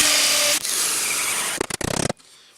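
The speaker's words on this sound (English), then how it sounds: "I'm going to drill one screw in and then I'm going to nail a nail in" Power drill driving a screw into wood while building a rabbit hutch: a steady loud whirring run, then a short series of rapid choppy bursts before it cuts off into quiet.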